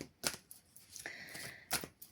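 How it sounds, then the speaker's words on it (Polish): A large Druid tarot deck is shuffled by hand, giving soft, close riffling snaps in a few short bursts with quiet gaps between them, no talking. "Zobaczymy, jak będzie z tym tasowaniem, ale przepiękna talia."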